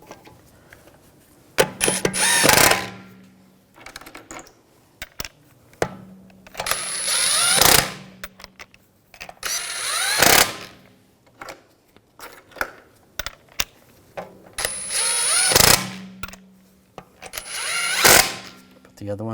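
Bursts of a tool running on the lug bolts of a 2007-2013 BMW 328i rear wheel, four loud spells of a few seconds each with short pauses between, up close in a garage.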